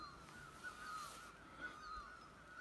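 Birds calling in a forest, with repeated crow-like caws and thin tonal calls carrying through a quiet woodland background, faint and steady.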